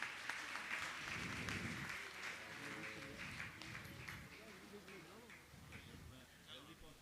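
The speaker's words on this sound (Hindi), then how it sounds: "आप लोग तालियां बजाएं" Audience clapping during an honouring ceremony at a Jain monk's gathering in Bhopal; continuous crowd applause runs under someone talking and other voices.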